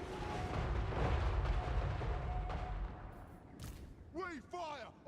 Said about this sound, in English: Oh, the dwarf cannons are so cool.